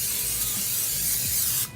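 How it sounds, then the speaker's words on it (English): Cooking spray hisses steadily from an aerosol can into a pan in a home kitchen, a continuous close spray lasting under two seconds before cutting off. "it says to spray cooking spray in the pan."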